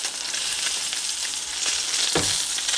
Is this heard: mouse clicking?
no